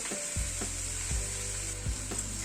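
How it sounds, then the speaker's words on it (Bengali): Onions fry lightly in a pan with a constant bright sizzle while a spatula stirs them, making several distinct knocking scrapes about every three-quarters of a second, close and fairly loud, with no voices. "পেঁয়াজটা দিয়ে একটু নাড়াচাড়া করে নিচ্ছি। পেঁয়াজটাকে হালকা একটু ফ্রাই করে দেব।"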